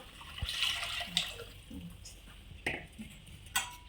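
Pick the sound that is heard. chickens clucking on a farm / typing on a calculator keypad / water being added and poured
water being added and poured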